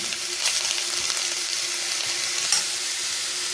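Grated coconut fries in ghee in a pan for a sweet suzhiyam, giving a steady, soft sizzle with faint stirring scrapes, heard close and alone with no talking.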